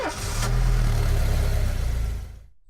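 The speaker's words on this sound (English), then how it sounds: "We have a noisy car, don't we?" A noisy car engine in This Is The Police video game runs loud and steady, a rough mid-pitched drone that holds for over two seconds before cutting off abruptly into silence.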